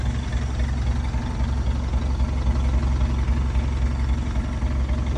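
A Lincoln Shield Arc four-cylinder gas welder engine, fitted on a 1961 Chevrolet Apache 60 welding truck, idles steadily with a smooth, even low rumble, close and continuous throughout with no talk.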